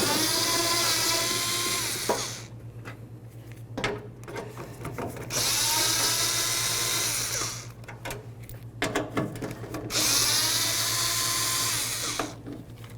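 A power tool whirs in three long bursts, close and loud, while removing headlight mounting bolts on a 2008-2013 Nissan Rogue, with rattling and clicking between runs.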